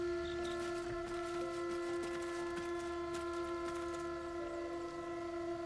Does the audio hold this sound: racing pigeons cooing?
no